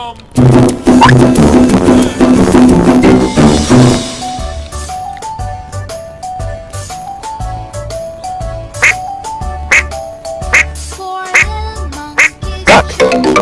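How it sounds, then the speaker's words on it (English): Cartoon-style duck quacks from a children's farm-animal learning game, loud and repeated over bright music, with a busy, dense stretch at the start followed by sparser quacks and jingly notes. "Duck."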